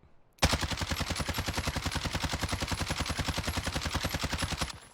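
Sustained full-auto fire from a CR-56 AMAX assault rifle in Warzone, a fast, even stream of loud, close shots lasting about four seconds with no talking.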